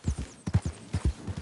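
Hooves of a horse in Red Dead Redemption 2 clip-clop on the ground in a quick, uneven trotting rhythm, several distinct near thuds over a quiet background.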